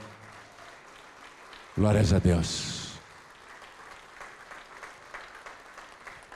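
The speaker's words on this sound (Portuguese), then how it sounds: "Vamos aplaudir mais ao nome do Senhor." Applause rises during a church service: a voice shouts a brief exclamation over it, then a congregation keeps up a light, scattered patter of clapping in the background.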